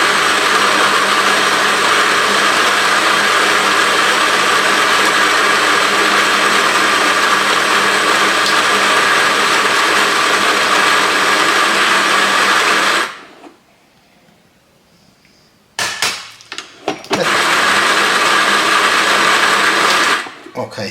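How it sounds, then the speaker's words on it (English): A coffee grinder grinds 14 grams of coffee beans in a loud, steady whir lasting about thirteen seconds, stops briefly, then starts again in short bursts before another sustained run. "going to make the shot now. So 14 grams of coffee grind."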